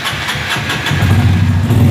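A Honda Fan 160 motorcycle engine cranks over and catches, settling into a loud, close idle with a steady low rumble and no talking.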